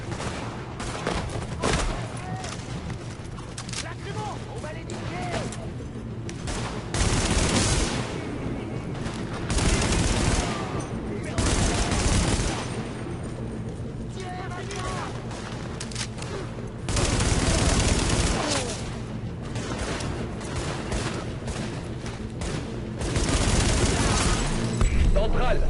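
Weapon fire in the video game The Division, bursts of gunshots and rapid volleys recurring loudly over a steady game soundscape, with someone talking at times between them.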